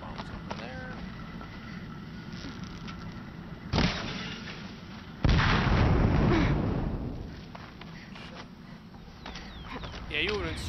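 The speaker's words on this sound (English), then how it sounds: "Bombs over there." Bomb explosions in Horizon Zero Dawn, two sharp booms a second apart, the second louder with a rumbling tail over several seconds, set among game sounds and a voice talking.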